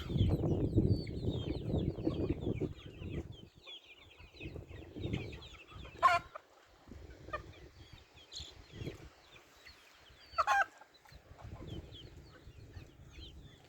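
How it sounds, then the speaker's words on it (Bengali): Chickens and turkeys on a farm in Saudi Arabia cluck and chatter at moderate distance, with scattered higher squawks and calls popping out over a low murmur of the flock; no one speaks. "এই যে কত মুরগি দেখছেন মুরগি মুরগি মুরগি আর মুরগি"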